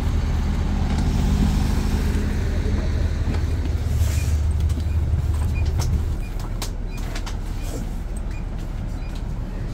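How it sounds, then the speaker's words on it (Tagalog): A 9 PM luxury bus pulling in at a terminal, a deep engine rumble that settles and fades, with faint clatter and hiss around it. "Dumating isa pang bus after more than 30 minutes."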